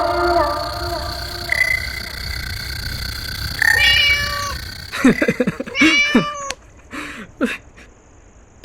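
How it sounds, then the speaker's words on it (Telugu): A cat meows several times in quick succession, clear and close, after a stretch of background music with no voices. "పిల్లి చూసి భయపడ్డావు కదరా."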